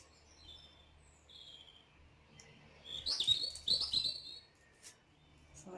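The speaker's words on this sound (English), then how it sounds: "the birds outside have been singing the whole time that I've been here in my little summer house" Birds sing outside a summer house: quiet chirps and whistles, then a brighter burst of close, high trilling tweets in the middle before the calls thin out, with no talking.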